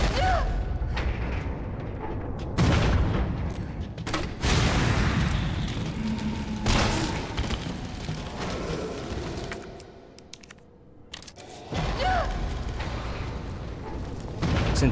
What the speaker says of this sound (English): We're bringing in a grenade.